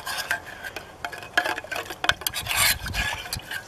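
Stirring in a small pot over a twig stove outdoors in the woods, scraping and rubbing strokes in an uneven rhythm, close and moderately quiet with no talking.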